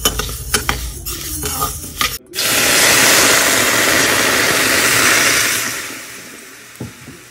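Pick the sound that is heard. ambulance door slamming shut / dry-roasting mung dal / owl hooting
dry-roasting mung dal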